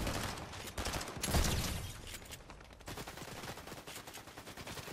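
Fortnite gunfire sounds up close as rapid automatic bursts and repeated shots, fairly faint overall, with a brief louder impact near the middle and no talking.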